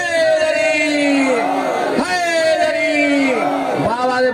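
A crowd at a Shab-e-Ashoor majlis chanting the slogan Haidari in response, massed voices in long rising and falling unison calls, loud and near.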